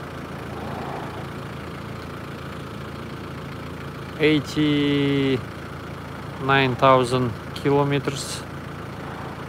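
Isuzu Bighorn Limited, a four-wheel-drive seven-seater with a 4JG2 diesel engine, idling with a steady low rumble throughout, while someone talks intermittently nearby.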